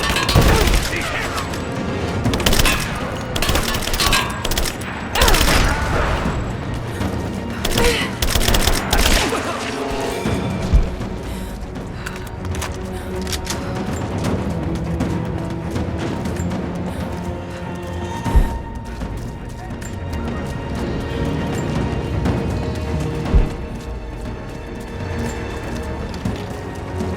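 Dense gunfire crackles through a firefight in the video game Rise of the Tomb Raider, with rapid bursts and heavy booms that are loudest early on, then steady volleys mixed with combat voice callouts.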